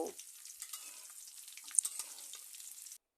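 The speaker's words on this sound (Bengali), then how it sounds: "এবার খুব ভালো করে তেলের সাথে ফুলকপির ফুল নাড়িয়ে চাড়িয়ে কিছুক্ষণ আমি ভেজে নেব।" Steamed cauliflower florets stirred and frying in oil for a black pepper cauliflower curry, giving a steady close sizzle with scraping stirs and a brief knock at the start, then cutting off abruptly.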